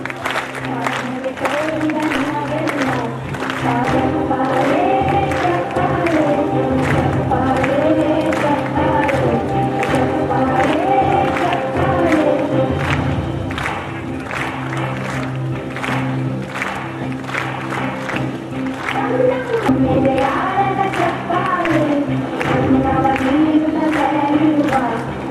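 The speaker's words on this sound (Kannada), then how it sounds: "ಎಲ್ಲ ವಿದ್ಯಾರ್ಥಿಗಳು ಜೋರಾದ ಚಪ್ಪಾಳೆಯನ್ನು ಹಾಕೋದ್ರ ಮೂಲಕ" Students at a school award gathering applaud loudly and steadily for about twenty-five seconds, with crowd noise and voices mixed into the dense clapping.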